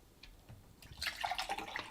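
Water is poured into a container, starting with a few faint drips and then swelling into a bubbling, gurgling stream up close that gradually grows louder, with no voices.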